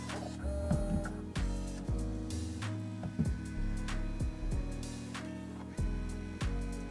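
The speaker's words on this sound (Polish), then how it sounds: "Czekamy, aż drukarka przyjmie nowe etykiety" A Brother VC-500W colour label printer feeding in a freshly loaded label roll, a steady mechanical whir with repeated stepped motor pulses and small clicks, close and alone for about seven seconds.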